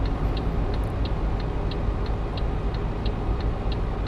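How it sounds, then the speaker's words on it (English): A steady low truck engine drone in Euro Truck Simulator 2 grinds on without pause under constant acceleration uphill, with faint regular ticking clicks above it; no one speaks. "That's the sound of an engine and a constant acceleration to keep up with the hill."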